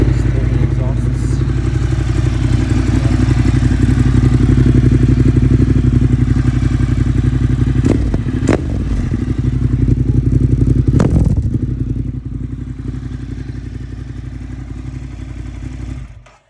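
A 2019 Ducati Monster 1200S with aftermarket exhausts rumbles loudly and steadily up close, with a couple of brief sharp blips partway through before settling back to idle.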